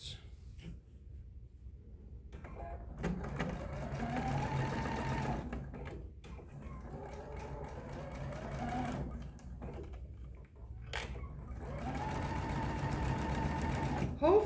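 A sewing machine stitches the boxed bottom corners of a fabric basket in three steady whirring runs separated by brief pauses, with quiet talk and handling in between.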